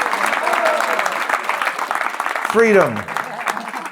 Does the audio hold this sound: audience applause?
yes